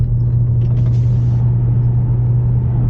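A BMW E60 M5 with its V10 engine, driven with the windows open: a loud, steady low drone of engine and road rumble with wind noise, no talking.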